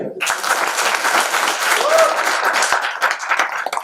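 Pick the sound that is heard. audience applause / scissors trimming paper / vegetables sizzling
audience applause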